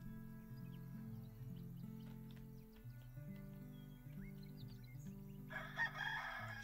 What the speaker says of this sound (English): Shut up, stupid chicken.